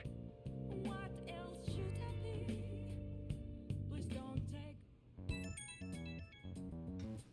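A bright, melodic text message ringtone in Persona 5 Royal plays over soft background game music, a quick chiming sequence of tones repeated near the end, fairly quiet.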